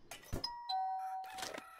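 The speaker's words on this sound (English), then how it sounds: "Who rang the doorbell?" A doorbell chimes in the video game Content Warning, a clear two-tone ding-dong between brief bursts of background noise, fairly faint.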